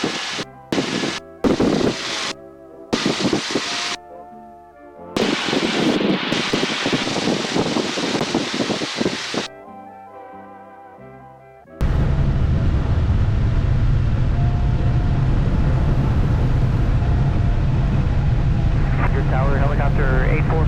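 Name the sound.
Ford Trimotor airplane engines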